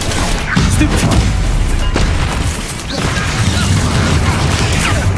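Explosive Bombarda and Confringo spell blasts in a Hogwarts video game, heavy booming bursts that crash one after another in a dense, loud barrage lasting the whole stretch, with a brief dip near the middle.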